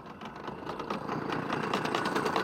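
A boat motor on a fishing trip in Central Africa runs steadily with a continuous buzzing drone that builds slightly louder, with no talking.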